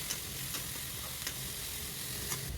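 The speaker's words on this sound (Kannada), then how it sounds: "ಈಗ ಬೀನ್ಸ್ ಮತ್ತು ಕ್ಯಾಪ್ಸಿಕಮ್ ಹಾಕಿ ಸ್ವಲ್ಪ ಫ್ರೈ ಮಾಡ್ಕೋಬೇಕು." Beans and capsicum frying for aloo fried rice masala, a faint, even hiss of oil with light periodic ticks from stirring, close and steady throughout.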